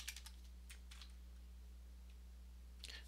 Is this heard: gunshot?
no